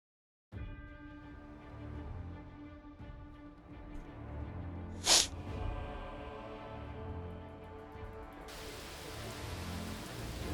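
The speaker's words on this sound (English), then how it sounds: "Oh, it's raining today." Steady rain falls in the fantasy RPG Pathfinder: Wrath of the Righteous, a continuous even hiss that runs through the whole stretch, with one brief sharp burst midway and game music tones layered underneath.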